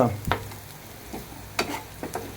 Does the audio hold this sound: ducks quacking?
no